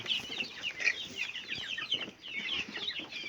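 Young domestic chickens about a month to two months old cheep and cluck in a busy, continuous chorus, fairly faint, with no talking.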